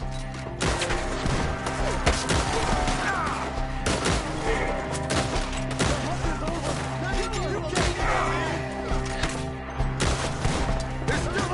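Dense gunfire crackles through a Red Dead Redemption 2 shootout, with overlapping shots and booming impacts in a steady barrage beneath shouted voices.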